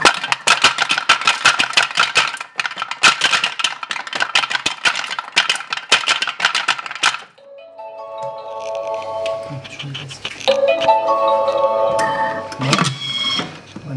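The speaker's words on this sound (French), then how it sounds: "Je vais la mixer quelques secondes." A Thermomix TM5 kitchen machine mixing brioche dough, its motor whirring loud and steady with rapid rattling pulses for about seven seconds, then a quieter, uneven spin with clunks and rising whine toward the end.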